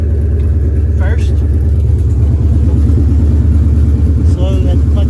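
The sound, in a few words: Ford Fox Body car engine running as clutch released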